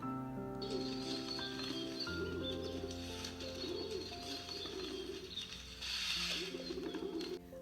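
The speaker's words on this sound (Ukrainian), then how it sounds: "Давайте послухаємо, як голос подає голуб." A pigeon coos repeatedly in soft, rolling phrases close by, with a steady mechanical hum and other faint bird sounds behind it.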